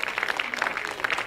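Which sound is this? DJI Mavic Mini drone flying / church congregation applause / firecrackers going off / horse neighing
church congregation applause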